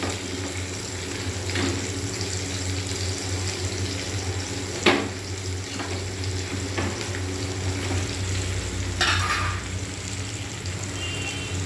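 Onion frying in a pan, a steady hiss with a few faint clinks and scrapes from the cookware.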